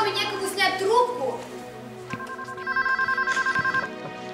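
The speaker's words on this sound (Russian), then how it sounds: "Мама, Мия, у нас что, в доме некому снять трубку?" An indoor telephone rings in a rapid, regular trill of repeated bell bursts, heard at moderate volume after a voice speaks.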